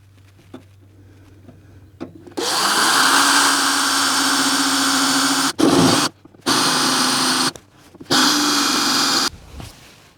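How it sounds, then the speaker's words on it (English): A power drill bores into hard weld on a vehicle under restoration, whining loudly in several sustained runs of a few seconds each, separated by brief stops. "we're drilling into weld, and weld is seriously hard."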